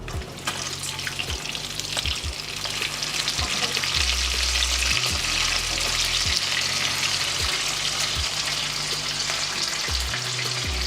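Bacon frying in a pan gives a continuous dense crackling sizzle, close and even throughout, with a low rhythmic hum underneath and no voices.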